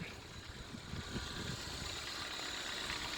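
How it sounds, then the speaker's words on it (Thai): A white Toyota Corolla idles after being started, a low, even engine rumble with faint mechanical hum, quiet and steady, growing slightly fuller after the first second with no talk over it. "เดี๋ยวผมจะลองสตาร์ทเครื่องให้ฟังนะครับผม"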